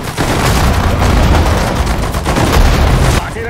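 Gunfire and cannon fire from the World War II strategy game Sudden Strike 4, set at the Battle of Dunkirk: a loud, dense, continuous barrage of overlapping shots and booms filling the whole stretch, with faint voices underneath.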